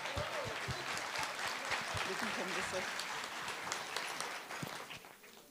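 Audience applause at a national teaching awards ceremony, a sustained, full crowd of clapping and scattered cheers from a large hall, steady throughout and tapering slightly at the end.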